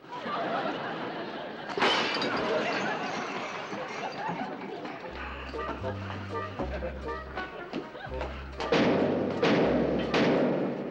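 Heavy knocks on a front door in a 1960s sitcom house: a few loud, widely spaced thumps, the last ones grouped near the end, over a low musical backing.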